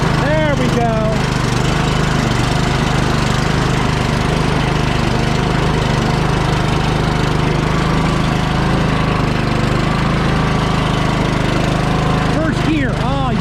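Troy-Bilt Pony lawn tractor engine running steadily at close range while gears are shifted, a constant loud drone with mechanical rattle throughout, and a person speaking briefly over it.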